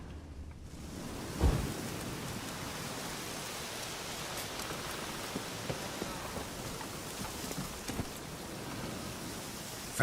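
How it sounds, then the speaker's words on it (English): Steady rain hiss with a low thunder rumble and a sharp thump near the start, continuous and fairly loud throughout, in the game The Witcher 3: Wild Hunt. "Looks like rain."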